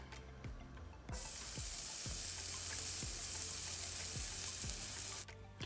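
Melted butter bubbles vigorously in a pot for honey garlic salmon, giving a loud, constant sizzling hiss. Faint clicks sound first, then the frying noise starts and holds until it cuts off near the end.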